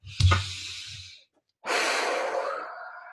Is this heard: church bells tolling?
no